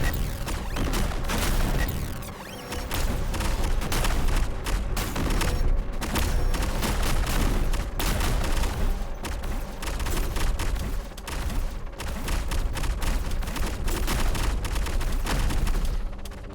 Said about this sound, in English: It's just swarms of missiles.